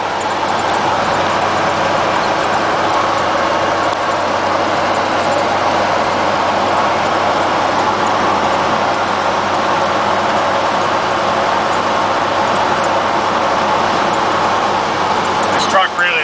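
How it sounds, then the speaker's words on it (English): A Chevrolet K30 truck with a swapped 4.3 engine hums steadily while cruising on the road to work, a constant loud drone with road noise throughout. "Motor just hums."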